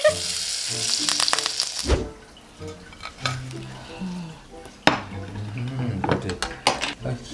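A cha-om omelette for sour curry fries in plenty of oil, hissing and sizzling loudly for about two seconds, then softer as metal utensils clink and scrape against the pan.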